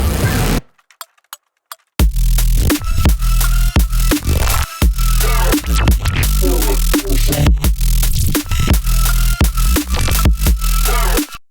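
An electronic track hits its drop: heavy distorted bass with noise-layered asymmetrical waveshaping, loud gritty and buzzing, pulsing in a driving rhythm after a brief near-silent gap with sparse clicks.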